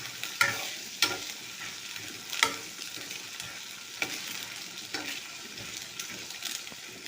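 Chickpeas fry and are stirred in a pan, a soft steady sizzle broken by scraping strokes of a spoon at irregular intervals, close and quiet.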